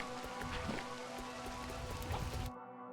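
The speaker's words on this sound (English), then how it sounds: "Oh, it's just raining everywhere now." Rain falls steadily in the video game Crow Country, a dense continuous patter under a low hum that stops abruptly near the end.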